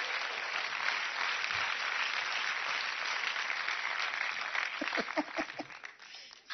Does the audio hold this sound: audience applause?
yes